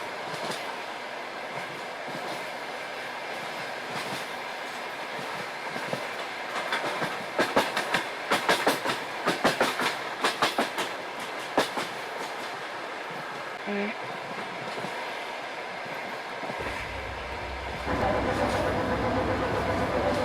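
A ChS2-hauled passenger train passes close by, with a continuous rolling rumble and a run of rhythmic clickety-clack wheel beats over rail joints, ending in a steadier roar.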